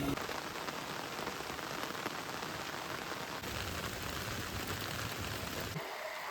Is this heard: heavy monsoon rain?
yes